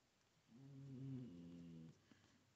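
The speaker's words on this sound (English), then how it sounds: "Oh, that was my dog, if you heard that." A low, drawn-out dog whine or growl with clear tonal layers, lasting about a second and a half, close by against a quiet background.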